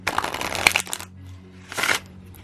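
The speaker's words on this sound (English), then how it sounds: "Very, very beautiful shuffling for rifle shuffling." A deck of cards is riffle-shuffled twice in quick succession, each a short papery flurry of rapid flicks, close and alone.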